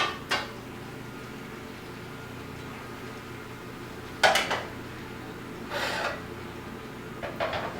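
Pans clank and scrape as Asian noodles are cooked, with a few sharp metallic knocks spaced apart over a low kitchen hiss.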